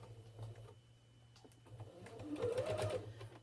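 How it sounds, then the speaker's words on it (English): A sewing machine stitches a fabric envelope with an eighth-inch seam margin, a quiet rapid hum with faint ticking that builds slightly toward the end, close by and heard alone. "All right, and you just sew."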